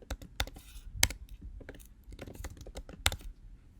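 Keys clatter on a computer keyboard as a password is typed, a run of sharp, irregular clicks with a few louder strikes standing out, close and clear with no talking.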